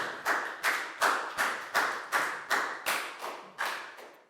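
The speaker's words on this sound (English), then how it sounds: "Big round of applause for Bangpon, please, guys." A classroom of Year 4 pupils claps together in a steady, even rhythm, about ten sharp claps in roughly four seconds, close and fairly loud with no talking over them.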